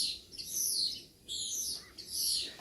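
A small bird chirps in bright, high bursts, a few separate phrases with short pauses between them, clear and fairly close, with no voices present.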